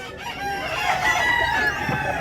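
A rooster, a Hatch gamefowl, crows loud and close in a single drawn-out call, with a faint murmur of people in the background.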